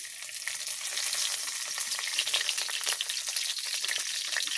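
Bay leaves fry in hot oil in a wok, a dense, even crackling sizzle that holds steady throughout, close but moderately quiet.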